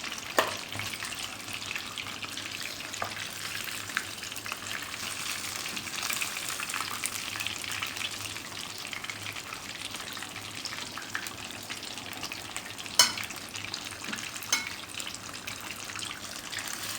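Fish frying in hot oil for a crispy restaurant-style Lahori fish fry, a steady low sizzle running throughout with occasional sharper pops and crackles, fairly close and alone without talk.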